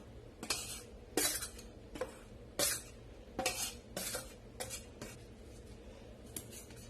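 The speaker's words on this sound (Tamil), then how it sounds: "இது மாதிரி ஜென்டலா மிக்ஸ் பண்ணி விடுங்க. இந்த மாதிரி ஒரே டைரக்ஷன்ல மிக்ஸ் பண்ணி விடுங்க." A whisk gently folds chocolate coffee cake batter in one direction in a bowl, producing repeated soft scraping strokes and light clinks against the bowl at an uneven rhythm, close and quiet with no talk.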